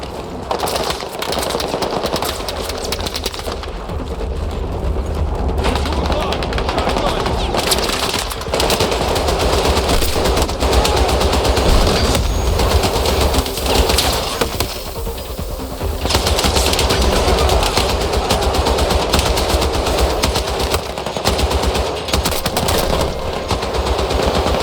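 Sustained machine-gun fire in the video game Battlefield 6, dense rapid bursts running almost continuously with explosions and battle noise mixed in, loud and close throughout.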